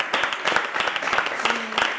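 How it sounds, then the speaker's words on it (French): A studio audience on a French-language talk show breaks into brief, light applause, a loose cluster of separate claps over about two seconds. "j'aimerais qu'on applaudisse pour une jogger."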